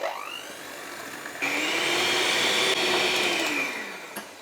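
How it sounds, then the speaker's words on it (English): An electric whisk beats eggs and sugar for lemon curd, a close, steady high-pitched motor whine that rises in pitch as it settles into the mix, then eases off near the end. "If you've got an electric whisk, it's the ideal tool for the job"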